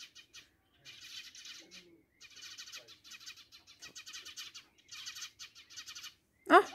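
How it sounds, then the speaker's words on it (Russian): Small sparrows chirping outdoors at a country dacha garden, rapid twittering bursts in repeated clusters, moderately near, with no talk over them and a louder sharper call at the end. "Птички чирикают."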